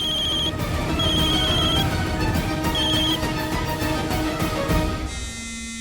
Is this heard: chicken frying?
no